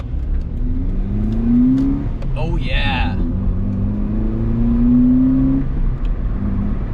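A Honda Fit (GD3) engine with an aftermarket intake revs up in two low, rising sweeps, loud and close, with a short spoken remark between them.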